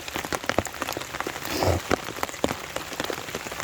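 Steady rain pattering on an overnight underground bushcraft shelter in the woods, dense close drops with sharper individual taps, no talking.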